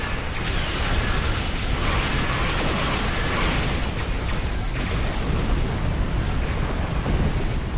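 Heavy tetrion dual cannons in a space combat video game fire rapidly in a dense, continuous roaring barrage that holds steady and loud with no pauses and no talk.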